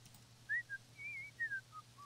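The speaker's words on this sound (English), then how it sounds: "I like that he's whistling." A video game character whistling a light, carefree tune, several short rising and falling notes over a faint low hum, quiet and alone with no talking.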